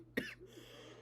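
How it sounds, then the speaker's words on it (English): A single short, sharp cough from a hockey commentator, close and fairly quiet, followed by a brief throaty trailing sound. "This cough needs to go away."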